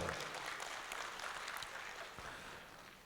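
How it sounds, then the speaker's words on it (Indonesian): Steady applause from a crowd, a continuous wash of clapping that stays fairly even throughout. "Tepuk tangan untuk kita semuanya"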